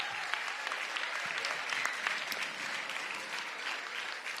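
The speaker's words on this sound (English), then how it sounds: "give yourselves a big round of applause" Teachers and school staff clap at a DC education event, a steady, even rattle of many hands that holds throughout at moderate volume without a break.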